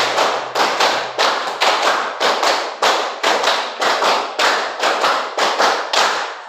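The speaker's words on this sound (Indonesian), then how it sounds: "Tepuk 1, tepuk 2, tepuk 3, tepuk 4, tepuk 5" Steady rhythmic hand clapping in a classroom math lesson, crisp evenly spaced claps of about three per second grouped into short runs, loud and close with no talk over them.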